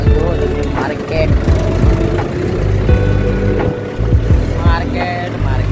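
A tractor engine runs loudly and close by, its low throbbing drone continuous beneath people talking over it.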